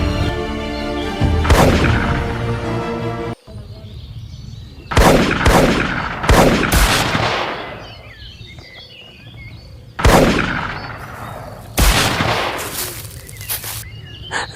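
Loud bursts of gunfire and heavy booms erupt in several clusters, separated by quieter stretches with faint background noise.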